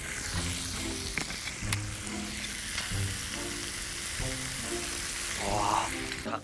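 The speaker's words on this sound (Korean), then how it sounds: "이 지글지글 소리" Food sizzles and crackles in a hot pan, quiet and close, with a few low clinks and faint background sounds.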